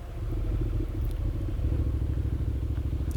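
A Honda NC750X motorcycle with new fork springs cruises along a road, its engine holding a steady, low throbbing drone throughout, with light clatter and wind noise over the top.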